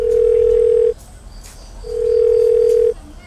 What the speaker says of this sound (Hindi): हमर दीदी जे छे ना बीच में फोन कर दै छे